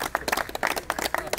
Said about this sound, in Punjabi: ਹੁਣ ਤਾੜੀਆਂ ਮਾਰ ਦਿਓ ਬਈ